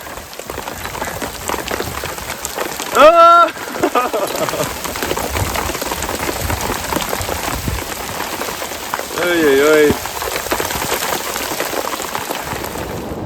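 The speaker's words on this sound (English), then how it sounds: "we're about to get really rained on" Heavy rain pours down during a solo canoe trip, a loud, steady patter of drops on surfaces close around, with a man's brief exclamations rising over it twice.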